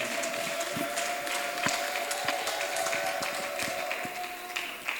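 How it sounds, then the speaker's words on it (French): An audience at an educational guide launch applauds steadily, with a continuous wash of moderate clapping and a faint constant hum underneath. "Applaudissons."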